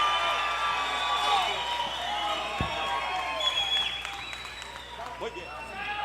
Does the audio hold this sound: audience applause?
yes